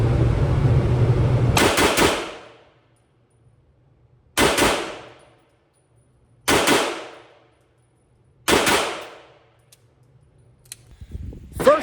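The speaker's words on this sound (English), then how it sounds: "First shots with the Kimber 2K11 Eclipse after it came back from TDS Gunworks for a W9 porting." A ported Kimber 2K11 Eclipse pistol fires four loud, sharp shots at a range, spaced about two seconds apart, each with a ringing decay, followed by a fainter clatter at the end.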